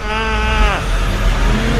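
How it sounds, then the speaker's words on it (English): A single wavering bleat, like a goat, rings out over a low rumbling engine-like noise that keeps going after the call ends. "And then they meet the old goat Flu."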